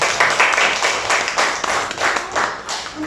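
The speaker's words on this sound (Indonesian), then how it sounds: "Beri tepuk tangan untuk para tim perdebatan hari ini" A classroom audience claps for student debate teams, a loud, close, rapid patter of many hands in rhythmic bursts that rise and dip over a few seconds.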